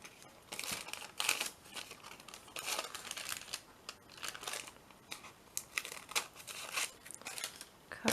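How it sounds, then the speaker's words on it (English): Tape is pulled from a roll and pressed onto parchment paper on a window frame, producing steady close crinkling, tearing and rustling with short irregular bursts throughout and no talk. "Take some of my tape, pop that on there like that."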